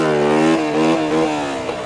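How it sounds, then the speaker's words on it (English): Motorcycle revving in first gear during wheelie training, a loud close engine note rising and shifting in pitch across a short burst with no talk. "Let's do another twitchy first gear"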